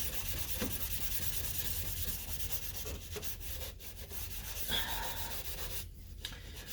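Steady, close rubbing as headlight restoration formula is worked by hand onto a car headlight, a continuous abrasive scrubbing with brief pauses near the end.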